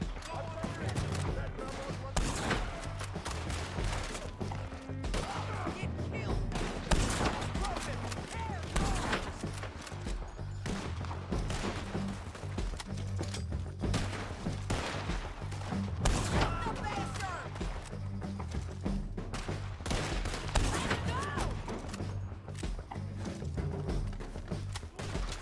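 Repeated gunfire from a shootout in the video game Red Dead Redemption 2, a dense volley of shots over a continuous music and ambience bed, with a voice speaking at times.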